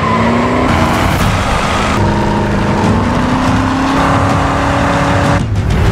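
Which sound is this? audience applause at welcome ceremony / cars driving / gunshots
cars driving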